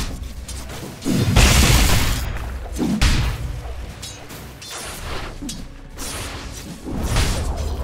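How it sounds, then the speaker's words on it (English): A tower collapsing in Dota 2 in loud crashing bursts, with heavy booms and shattering debris striking at about one, three and seven seconds over a continuous roar of in-game battle. "Radiant's bottom tower has fallen."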